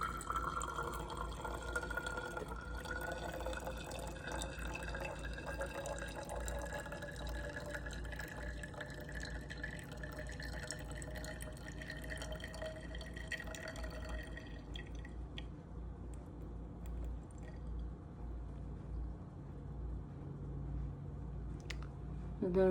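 Water trickles and pours into a graduated cylinder during a liquid-measuring lab, a faint continuous splashing and filling sound whose pitch rises as the vessel fills, then tapers off.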